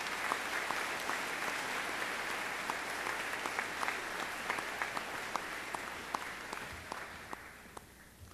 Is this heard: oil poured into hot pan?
no